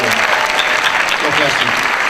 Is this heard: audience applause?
yes